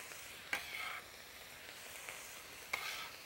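Beef, peppers and onions sizzle steadily in a pan, a faint, even crackle broken by two brief stirring scrapes.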